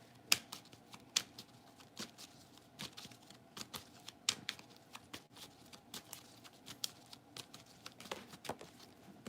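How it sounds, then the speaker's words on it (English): Tarot cards being shuffled by hand, a quiet run of soft flicks and riffles with irregular taps, close and alone. "Hold on, let me shuffle real quick."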